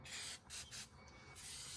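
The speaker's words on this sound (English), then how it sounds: "you're just going to spray where the brake pad's going to touch, because there's usually oil left on them" Aerosol brake cleaner sprayed onto a brake rotor during a pad and rotor change on a Holden Commodore, three short hissing bursts followed by a longer steady spray, close and loud with no talking.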